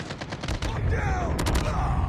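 Rapid bursts of gunfire in the video game COD Mobile, loud and close, a quick rattling volley of several shots followed by further cracks over a dense battle din.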